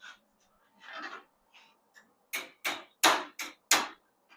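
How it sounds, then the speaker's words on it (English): Hammer tapping metal edges on a welding table: a few faint scrapes, then five sharp, close taps in an uneven rhythm. "Need to get a hammer, tap the edges in a little bit."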